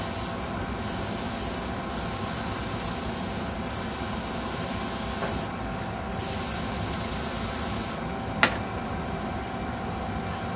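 An airbrush sprays a 2-to-1 mix of Polyscale dirt and Windex through its nozzle, a steady close hiss that pulses on and off in several bursts, with one sharp tap near the end.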